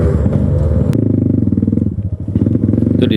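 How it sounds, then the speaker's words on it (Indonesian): A Kawasaki trail motorcycle engine revs loud and near on a steep forest dirt path in Maros, a deep pulsing roar rising and falling continuously, with no talking. "Itu di depan ada motor berteriak-teriak."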